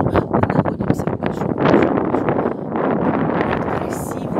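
Gusty wind blows at the Olenyi Vrata countryside manor in the Kaliningrad region, buffeting the microphone in loud uneven rushes while a person talks underneath.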